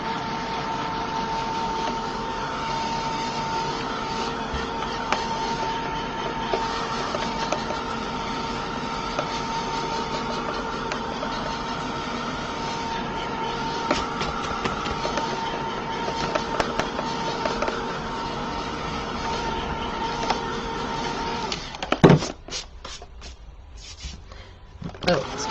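A heat tool drying wet paint on an art journal page gives a steady, even blowing whir that runs nearly unbroken for about twenty seconds, then cuts out, leaving a few small handling clicks.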